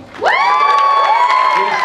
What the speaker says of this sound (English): They cheer when they want.